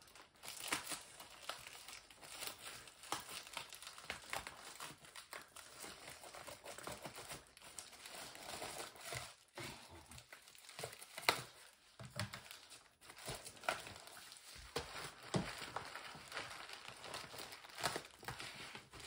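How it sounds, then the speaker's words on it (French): An envelope is fingered, crinkled and cut open by hand, giving steady papery rustling and crackling with short tearing bursts for about nineteen seconds, close up and without talk. "je tâte souvent le haut de l'enveloppe pour savoir si je peux couper sans tout négocier ce qu'il y a dedans"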